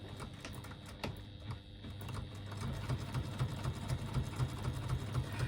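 A sewing machine stitches a second line along a strap, its needle chattering in a steady rapid rhythm that grows slightly louder and more regular partway through, close and alone.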